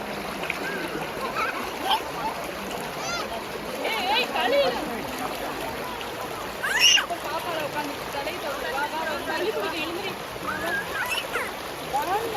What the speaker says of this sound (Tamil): இந்த தண்ணியோட சவுண்டு கேட்குறதுக்கு அவ்வளோ சூப்பராக இருந்துச்சு